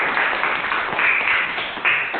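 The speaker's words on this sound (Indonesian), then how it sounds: "Bagus, tepuk tangan." Classroom applause rises and falls in a continuous patter of many hands clapping for a couple of seconds, fairly close and steady.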